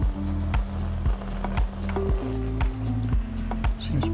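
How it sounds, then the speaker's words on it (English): An aquarium gravel vacuum run as a plain siphon sucks and gurgles water in rhythmic squishing pulses, loud and close, with no talking. "let's go ahead and use it as a standard siphon system where the water comes out"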